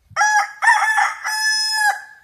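A rooster crows loud and close at a runners' training camp in Kenya, giving one full crowing call in three drawn-out, strained segments over about two seconds, with no talking.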